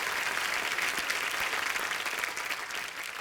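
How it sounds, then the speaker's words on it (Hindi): A studio audience at a Hindi comedy talk show breaks into sustained, dense applause, a steady wash of clapping that stays even and fairly quiet throughout. "जोरदार तालियां सबके लिए।"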